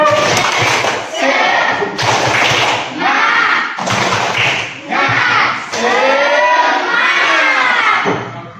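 A school class performs the rhythmic tepuk semangat clapping chant, with bursts of children's shouted chanting and claps in roughly one-second phrases, loud and close, separated by short pauses.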